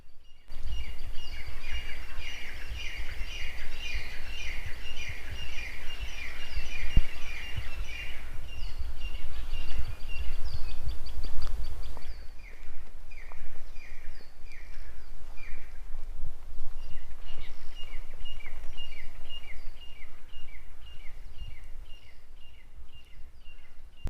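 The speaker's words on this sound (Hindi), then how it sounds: "ये जो चिड़ियों की आवाज़ आ रही है उसे सुनिएगा" Several birds chirp and twitter steadily in repeated bursts of high notes on a winter morning in the woods, with a low outdoor rumble underneath and no talking.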